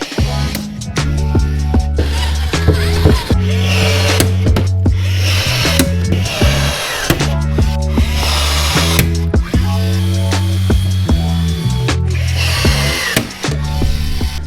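Parts being riveted into place on an aluminum jon boat build, a loud close run of rhythmic mechanical tool bursts with ratcheting clatter and repeated hits, continuous and busy throughout with no talking.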